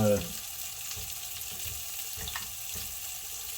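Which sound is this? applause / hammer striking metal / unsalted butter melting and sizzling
unsalted butter melting and sizzling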